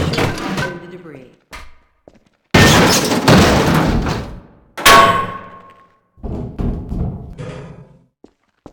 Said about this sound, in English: if nothing else works, you can try breaking the object in the path